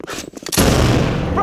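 A frag grenade going off in a video game, a sharp close blast after a short stretch of faint sounds, followed by a sustained rumbling, crackling tail.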